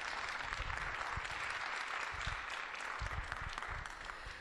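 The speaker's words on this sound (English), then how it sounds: "Would you give her a round of applause as she comes forth at this time?" Sustained audience applause for a speaker coming forward at a talk on going vegan, dense and steady throughout, heard from a distance at a low level.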